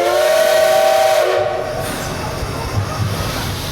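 A steam locomotive, the SL-Fuyu-no-Shitsugen, departs with a loud, sustained whistle blast for just over a second, followed by hissing steam and rolling train noise.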